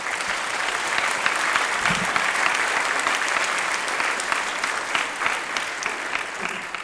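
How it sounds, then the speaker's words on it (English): A high school band concert audience applauds with even, sustained clapping that stays moderately loud throughout. "So let's give them a round of applause"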